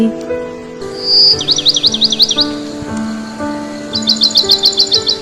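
Birds chirp in an animated children's story: a rapid trilling warble in the first half, then a quick run of repeated bright chirps near the end, with a faint melodic music bed underneath.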